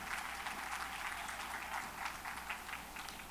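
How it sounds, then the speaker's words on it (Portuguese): An audience at a talk on hypertrophy and sarcopenia applauds itself, a steady, dense wash of clapping held at an even level throughout. "eu quero pedir uma salva de palmas a vocês mesmos que estão aqui até agora"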